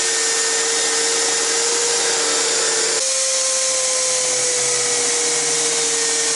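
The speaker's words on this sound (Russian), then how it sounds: "Теперь вот это лишнее нужно убрать болгаркой, чтобы не портить зря фрезу." An angle grinder runs continuously against Kirov brick while excess material is trimmed away for a carved fireplace, a loud, steady high-pitched whine whose tone drops partway through with no talking.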